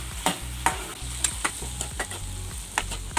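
Potatoes with turmeric and spices fry in a pan while a utensil scrapes and stirs them in a steady rhythm of knocks and scrapes over a constant sizzle, close up with no talking.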